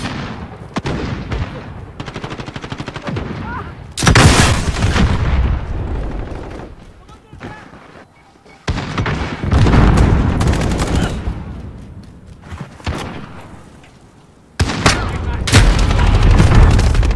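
Gunfire and grenade blasts in the video game Modern Warfare, with several loud bursts of shots and booms that come and go across the span, separated by quieter stretches.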